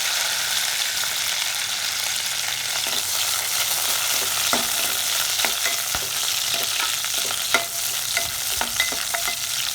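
Curry leaves and green chillies frying with colocasia pieces in hot oil, a loud, steady spitting sizzle throughout, dotted with small crackles and stirring clicks, close and alone.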